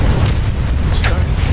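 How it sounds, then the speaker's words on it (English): A single deep, booming shot goes off in the squad-based shooter game Planetside 2 during a base capture and defense, heard amid a dense, steady rumble of battlefield noise. "A shot."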